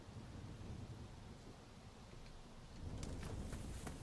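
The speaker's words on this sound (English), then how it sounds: "I hear a thundering, y'all." Thunder and rain in the survival game Rising World: a faint, steady patter of rainfall with a low, distant rumble that swells a little louder near the end, with no voices.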